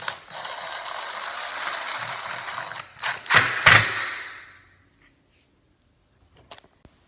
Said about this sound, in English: now I'm gonna put my screw in with my impact driver